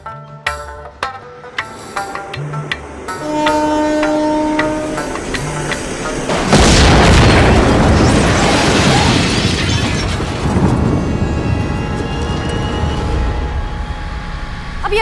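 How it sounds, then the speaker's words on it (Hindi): A bomb blast erupts in a Hindi film about explosions in Mumbai, a sudden loud roaring burst with crackling debris that swells and then trails off, preceded by quieter tonal music and sound. "मुंबई में 3 जगहों पर बम धमाके हुए हैं"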